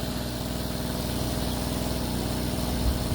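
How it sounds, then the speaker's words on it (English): A small engine-driven pump drains water from a barrel with a steady, buzzing mechanical drone that stays even and close throughout. "pumping some water out of that barrel"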